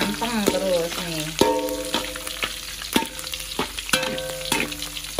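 Squid frying in hot oil and being stirred steadily, a dense continuous sizzle with sharp clacks of the utensil against the pan recurring about once a second, fairly close and loud with no voices.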